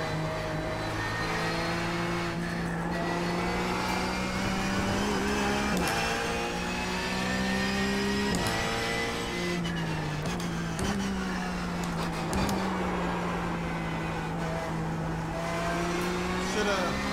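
Race car engine in the iRacing simulator drones loudly and continuously, its pitch rising and falling through gear shifts and corners, with someone talking over it throughout.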